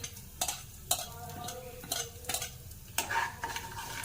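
Chopped dried red chillies crackle and sizzle in hot oil in a pan, with a spoon scraping and clinking in irregular strokes roughly every half second over a constant frying hiss.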